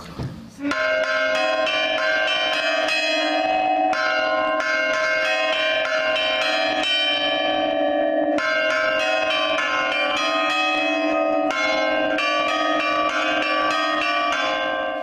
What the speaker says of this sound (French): lorsque vous vous baladez dans les rues, entendre le carillon, c'est un moment de pure joie